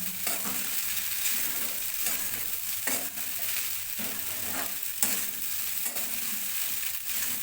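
Sabudana khichdi stirred in a pan over a low gas flame: a steady soft sizzle with rhythmic spatula scrapes roughly every second, close and even throughout with no talking.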